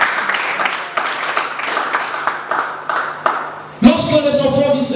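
A church congregation claps and cheers to acclaim the Lord, with scattered claps building into loud applause. A voice speaks over the clapping.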